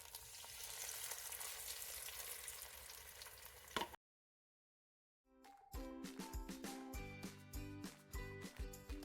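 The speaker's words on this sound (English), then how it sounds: "So oil plus ghee to fry the eggs." Eggs frying in a pan of hot oil and ghee, a dense steady sizzle, then a short silence followed by crackling sizzle with rhythmic scraping and tapping of a utensil on the pan, close and loud.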